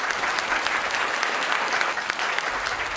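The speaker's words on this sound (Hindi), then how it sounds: "जोरदार तालियों के साथ संध्या सरल जी का स्वागत करें।" Dense, steady clapping from an audience at a Hindi poetry gathering, greeting a poet as she arrives; the applause is loud and continuous throughout, with no voices standing out.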